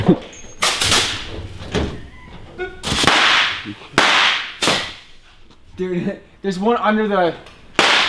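Bottle rockets go off close by in a series of sharp, whip-like cracks and bangs, some with a brief fizz, while people talk and react between them.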